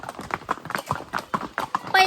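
Horse hooves clip-clop in a steady rhythm as horses carry riders uphill on a trail at Matheran hill station, close and moderately loud, with people talking over the hoofbeats.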